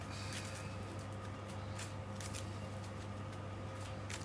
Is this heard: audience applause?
no